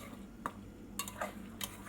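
Pan-fried chicken is stirred in a cooking pot: a few soft, brief clinks and scrapes of a utensil against the metal, faint and spaced apart over low background hum, with no talking.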